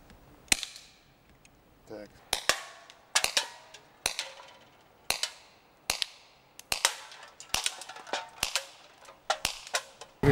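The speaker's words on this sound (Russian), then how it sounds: "стрельбе из разного вида оружия." Repeated sharp gunshots at shooting practice, fired at irregular intervals, about a dozen cracks over ten seconds, close and loud with short tails.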